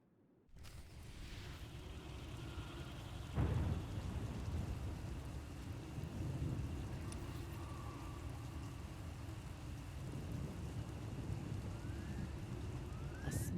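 Thunderstorm in Star Wars: The Old Republic, steady heavy rain hiss with a rolling rumble of thunder early on and a constant stormy wash throughout, no voices.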